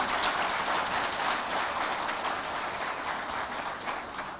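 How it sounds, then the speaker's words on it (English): An audience at a national trade fair gathering claps in dense, continuous applause for several seconds, a steady rain-like patter with no talk over it. "I think Balozi deserves a better and more hearty clap."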